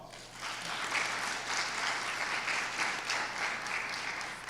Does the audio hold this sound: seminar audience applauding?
yes